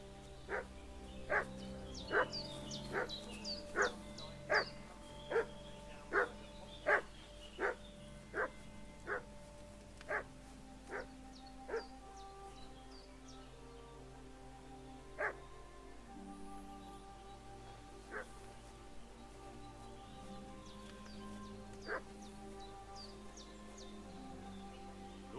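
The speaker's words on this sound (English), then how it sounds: "What's that dog making such a fuss about?" A dog barks repeatedly in a village in Kingdom Come Deliverance 2, with a steady run of sharp barks that thins into occasional yips over a quiet ambient bed.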